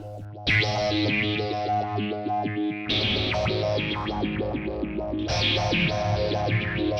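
Electric guitar through a Joyo Vision modulation pedal set to its step phaser, sustained chords with a choppy, stepped sweeping filter, played loud and close with no talking.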